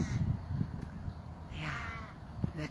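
Crow cawing once or twice at moderate distance over a low outdoor background hum, with no clear talk.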